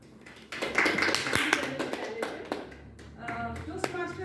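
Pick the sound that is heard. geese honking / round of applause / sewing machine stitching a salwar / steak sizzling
round of applause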